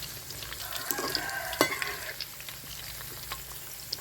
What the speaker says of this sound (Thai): ทอดเนื้อแดดเดียว